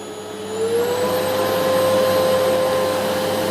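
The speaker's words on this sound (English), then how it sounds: "And now this is maximum. It's loud, yes, indeed, it's a loud vacuum cleaner." A Philips FC8575 vacuum cleaner at medium speed gives a steady, loud, close whine and rush that climbs slightly in pitch during the first second and then holds level.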